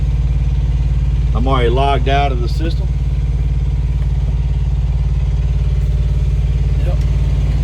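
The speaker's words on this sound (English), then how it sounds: "What you hear is the APU running." A semi truck's auxiliary power unit runs with a steady, loud low hum that drones evenly throughout, while someone speaks briefly over it early on.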